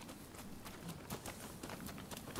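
Horse galloping in the video game Rise of the Ronin: quick, rhythmic hoofbeats sound faint and fairly distant.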